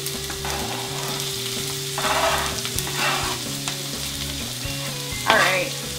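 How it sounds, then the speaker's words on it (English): Diced onions sauté in hot oil in a pan, a steady close sizzle and crackle running throughout with a few louder bursts of frying and stirring scrapes, no voices. "adding the onions, sauteing the diced onions"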